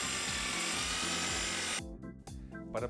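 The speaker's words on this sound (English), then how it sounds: "It is important to use a mechanical mixer because it will be very difficult to do by hand." A mechanical mixer whisks microcement resin and powder with a loud, steady motor drone and rhythmic churning, then cuts off and restarts in brief bursts near the end.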